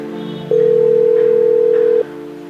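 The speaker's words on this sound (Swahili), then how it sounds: "Jamaa anachukua mpaka simu anampigia." A phone call going unanswered: a single steady electronic tone of about a second and a half over a quiet room background.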